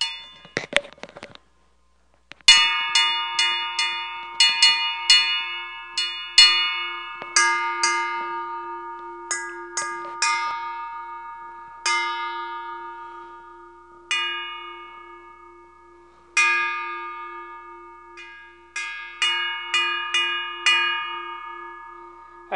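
A large metal bowl about a meter in diameter struck repeatedly, each strike ringing out with a steady bright tone that slowly decays, strikes spaced irregularly over a long stretch.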